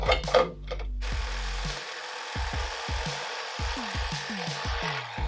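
A Sawzall reciprocating saw cuts through a moped gas tank during a Puch Maxi N rebuild, with a clattering burst at the start and then a run of short, regular mechanical strokes, close and fairly loud, with no voices.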